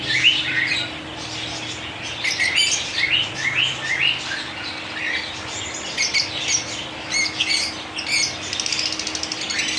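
Australian parrots chirp in a dense, lively flurry of short, high tweets kept at home, repeated calls overlapping continuously above a steady low hum, fairly close.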